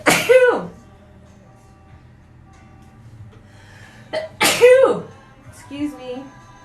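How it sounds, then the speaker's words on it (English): A person sneezes twice over their shoulder, each sneeze a sharp loud burst several seconds apart, followed by a short breathy sound, with no other noise between them. "I sneezed over my shoulder."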